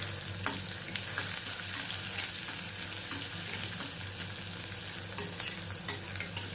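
Onion and green chillies fry in a pan for a spicy radish dish, giving a steady, moderate sizzle. Repeated clicks and scrapes from stirring run over a low hum, and no one speaks.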